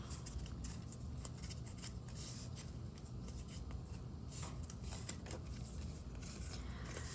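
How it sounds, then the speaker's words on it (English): Card stock folded back along a score line while building a keepsake mini album with a slotted hinge binding. Quiet papery creasing, rubbing and handling sounds come close to the mic in soft, irregular bursts, and no one talks. "I'm going to go ahead and fold back to get up to the gusset part"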